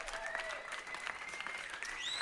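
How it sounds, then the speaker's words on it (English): Studio audience applause on a live talk show greets a president's introduction, steady dense clapping that fills the moment at moderate level, with faint whistling tones in the background. "Everyone, please give a round of applause to our current president of the United Republic of Man, Liodite."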